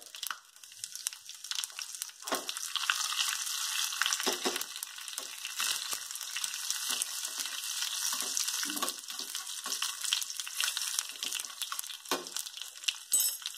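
Two or three dried red chillies and a sprig of curry leaves crackle in hot tempering oil, a close, steady, bright sizzle with popping spits scattered throughout and no talking.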